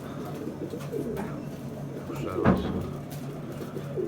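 Hungry pet bird chicks call at feeding time, a steady, close, busy mix of cooing and chirping with one louder burst partway through.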